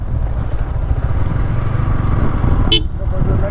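An off-road vehicle grinds along a rough forest road in Sathyamangalam forest, its engine a steady low rumble throughout, with a short sharp burst of a horn-like sound partway through.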